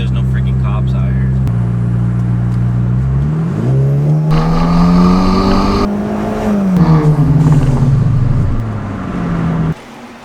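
Car fitted with a new adjustable exhaust and air intake pulls hard with traction control off. A loud, close engine note climbs steadily in pitch, holds, then eases off before cutting abruptly near the end.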